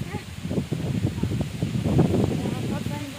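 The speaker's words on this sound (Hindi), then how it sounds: "अब हम लोग आ चुके हैं घर के बाहर शूटिंग करने, और बहुत तेज हवा चल रही है।" Strong wind blowing outside a house, a rough, gusty roar buffeting the microphone close up, with people talking underneath.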